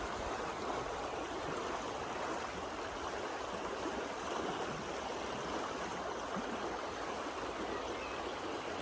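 A river along the Camino de Santiago way of St. James flows in a steady, dense rush of water, constant and close with no break, no voices over it.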